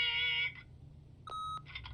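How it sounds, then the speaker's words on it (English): An answering machine gives one short, steady electronic beep in The Wolf Among Us, after a fainter tone and before a soft fluttering sound. "Beep!"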